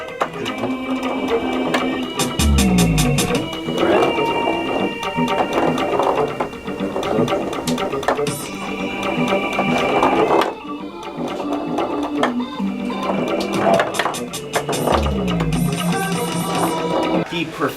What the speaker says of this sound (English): It is a board where you roll balls and the balls make noise.